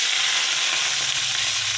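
Chopped onion and capsicum fry in hot oil in a wok with a steady, loud, close sizzle that holds throughout without pause, and no voices.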